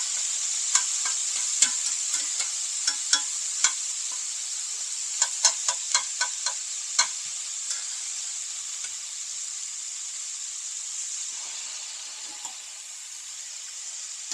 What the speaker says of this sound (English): Now we'll stir that garlic around in there.